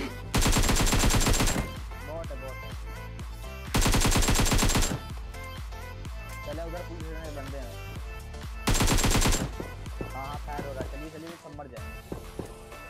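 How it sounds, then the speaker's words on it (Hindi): Heavy automatic gunfire in the battle royale game PUBG Mobile, loud bursts repeating in three long volleys with scattered shots and game sounds between them. "पीछे लैब की तरफ चल रही थी फायरिंग तगड़े वाली"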